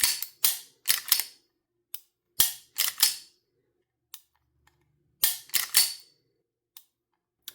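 Staccato HD pistol trigger clicks, sharp and close, arriving in uneven clusters of two and three with quieter single ticks between, each snapping out of near silence without any voice.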